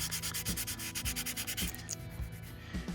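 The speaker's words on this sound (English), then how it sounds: "now I'm gonna scuff it up with, what is this? 400 grit, yeah. Just kind of give it a light scuff." A 2007 Ford Ranger Sport trailer hitch is given a light scuff with 400 grit sandpaper, a steady close rasping in quick repeated back-and-forth strokes with no talk.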